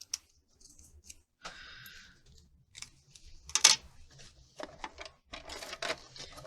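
Scissors trimming a sheet of paper for a scrapbook banner, a few quiet close snips and rustles with short gaps between cuts, faint and sparse overall.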